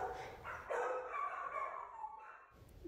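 Dogs bark and yip in shelter kennels, a continuous mix of overlapping barks and whines that echo off hard kennel walls, fairly close and loud throughout.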